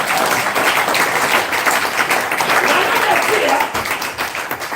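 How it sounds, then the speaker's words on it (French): A church congregation applauding, dense continuous clapping from a crowd filling the space, with voices talking and calling out underneath. "Acclamons pour le Seigneur."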